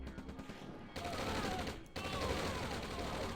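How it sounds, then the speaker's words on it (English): Yak aircraft strafing runs in the Red Alert strategy game: bursts of rapid machine-gun fire, two sharp onsets about a second apart, dense and sustained, with light talk faintly underneath. "the yak strafe to just clean everything up"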